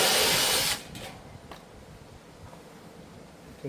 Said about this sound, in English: drill through.